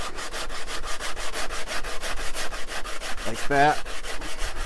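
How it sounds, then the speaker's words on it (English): Sandpaper on a straight edge rubs along the edge of a wooden banjo neck in steady, rhythmic back-and-forth strokes, close and loud, with a brief spoken remark near the end. "I'm going to take my straight edge with sandpaper"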